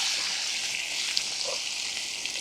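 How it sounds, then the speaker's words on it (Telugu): Green chilies frying in a pan with dried red chilies and asafoetida, a steady close sizzle with constant hiss and small crackles throughout, no talking. "దీన్ని కొంచెం ఫ్రై అవనిద్దాం మిరపకాయలు."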